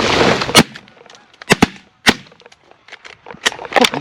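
Shotguns fire during a snow goose hunt, several loud sharp blasts going off close by in an irregular volley, the first few spaced apart and the last ones coming in quicker succession.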